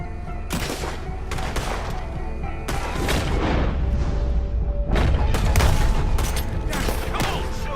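Gunfire in a shootout from the video game Red Dead Redemption 2, loud overlapping shots and booming bursts in clusters, with little speech.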